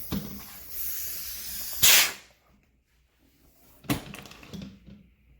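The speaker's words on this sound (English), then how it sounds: "when I unscrew this, you'll see that it immediately loses a lot of the air" Air hisses sharply out of an unscrewed Dimok Aqua Bag valve in a loud burst of about a second, then trails off into quiet before a shorter, weaker rush of air.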